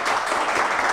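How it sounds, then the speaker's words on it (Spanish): Strong applause from an audience at a tribute gathering honoring mothers in Biblián, Ecuador, a steady, dense wash of clapping filling the whole second without pause. "Un aplauso fuerte para Juan Diego, talento vilanense."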